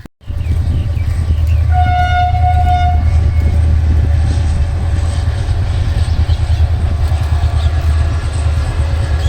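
A heavy coal-laden freight train rumbles past loudly and continuously, its horn sounding briefly early on over the steady rolling clatter of wagons.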